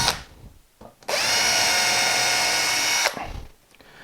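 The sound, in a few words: power drill drilling small pilot holes in wood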